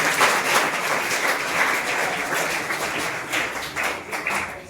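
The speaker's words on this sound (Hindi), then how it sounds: "सर के लिए एक बार जोरदार तालियों से स्वागत करें।" Steady, loud applause from a crowd at a block-level school quiz competition welcoming the block education officer, sustained clapping throughout without talk.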